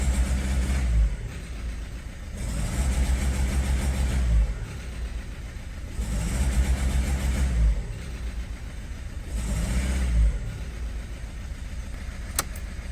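A Citroen Berlingo engine idles roughly with a misfire, a low uneven chug that swells and fades in a regular cycle about every two seconds, close and loud with no one talking.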